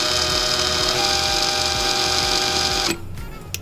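A length of 26 gauge nichrome wire clamped in pliers and spun on a tool to straighten it gives a steady, loud motorized whir for about three seconds, then cuts off abruptly with faint handling noise after.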